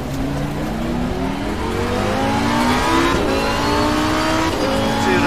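A Lamborghini race car in the racing game Assetto Corsa Competizione revs loudly up through the gears, its engine tone rising and stepping with each shift, close and continuous without speech.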